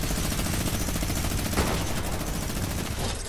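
Rapid automatic gunfire in an online shooter video game, a dense continuous burst of shots that stays loud throughout with no pause.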